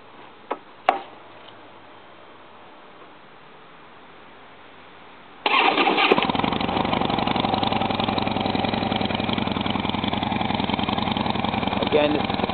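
A 2011 Harley-Davidson Wide Glide motorcycle with its stock exhaust rumbles at a low idle, then its engine sound swells sharply into a loud, steady, rough roar that continues to the end.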